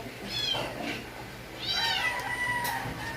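A cat meows twice nearby, a short cry followed by a longer, rising-and-falling meow, over a low steady background hum.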